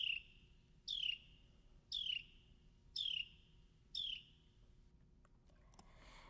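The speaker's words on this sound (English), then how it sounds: "the trill call that is similar to an electric buzzer from Carolina ring" Five buzzy descending trill calls of a Carolina wren, evenly spaced about a second apart, each a short, bright, electric-buzzer-like burst, clear and fairly close over a quiet low background hum, then fading to faint rustling.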